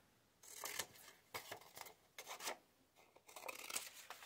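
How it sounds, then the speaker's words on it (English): Scissors snip through vintage book pages to cut petals for an upcycled paper rose, giving several close, crisp cutting bursts with short pauses between them and no talking. "And the last one I'm going to cut four petals off."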